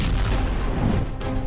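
A BrahMos missile explosion sound effect: a loud, continuous low rumbling boom with a crashing, blast-like texture that fills the whole moment without any talk.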